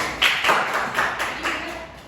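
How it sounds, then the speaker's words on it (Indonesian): A short burst of hand clapping from a small group, a few sharp rhythmic claps fading out after about two seconds. "Tepuk tangan untuk Mbak Erika."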